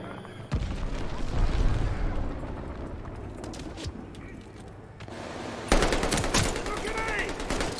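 Bursts of rapid gunfire crackle in a Call of Duty: Vanguard beta match, with sharp cracks and booms, intense at the start and again near the end.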